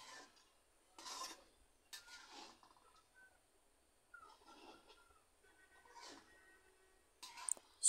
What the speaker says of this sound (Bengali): এলাচ দারচিনির সাথে ভালো করে আবার মিশিয়ে নেব।